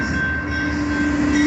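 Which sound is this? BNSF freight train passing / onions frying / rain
BNSF freight train passing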